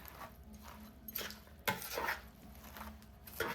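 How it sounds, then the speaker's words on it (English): Lettuce stirred in a pan with hot bacon grease, a utensil clanking and scraping against the pan in irregular bursts, close and fairly quiet, with a faint sizzle beneath and no talk. "Stir it all up. And that hot grease in there is what's gonna make this lettuce wilt real fast."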